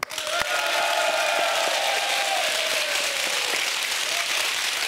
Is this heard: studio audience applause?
yes